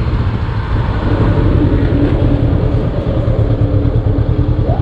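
A Honda Hornet 500cc motorcycle on a test ride at Motorrad Alley in Lipa, Batangas, its engine droning close and steady with a throbbing rumble and wind noise throughout.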